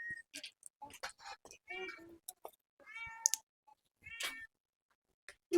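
A house cat meows repeatedly at close range in a home kitchen where mustard oil is heating in a pan for fish curry, with short tonal cries in irregular bursts and occasional light clatter between them.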